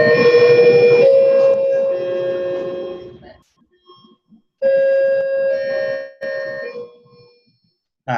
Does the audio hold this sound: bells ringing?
yes